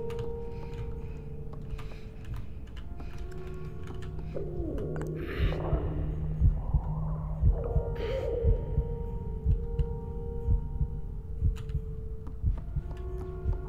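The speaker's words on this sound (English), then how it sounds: "I can hear the heartbeat" A deep, steady thumping heartbeat from the Little Nightmares video game, repeating rhythmically under a low hum with brief clicks, with no talking.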